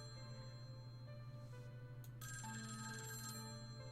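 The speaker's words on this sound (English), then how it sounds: "The phone's incessant ringing wouldn't let up, shrill like the echo of distant thunder." A telephone rings in the Tokyo Babel video game, a shrill electronic bell that sounds in bursts over a low steady hum, fairly quiet and with no speech.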